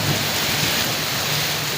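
Heavy rain pours down steadily in Multan during a thunderstorm, a dense, continuous roar of water hitting surfaces with a low rumble of thunder underneath, loud and close throughout.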